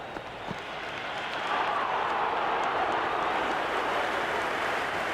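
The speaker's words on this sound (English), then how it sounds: "It's evident and ever so audible that the crowd is at near bursting point at today's play." Crowd noise from a simulated cricket stadium in Cricket 26 during a New Zealand vs England T20 World Cup Super 8 match, a broad steady roar that swells after the first second and holds loud and continuous.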